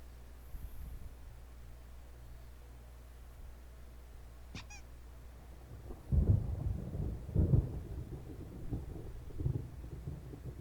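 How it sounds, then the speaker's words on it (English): A thunderstorm rumbles in Alan Wake Remastered: a quiet, humming stretch and a brief sharp crack lead into deep, rolling thunder that swells loud and then recurs in heavy waves. "There's a storm coming."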